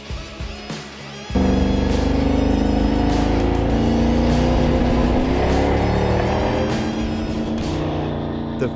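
A race car engine on a racetrack shakedown run starts up abruptly and holds a loud, steady, close roar, with gear changes and revving that eases off slightly toward the end.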